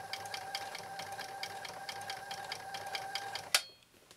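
A New Home SL2022 all-mechanical 1.0 amp sewing machine, run by foot controller, stitches in a fast, even mechanical chatter, then stops with a sharp clunk that leaves near silence.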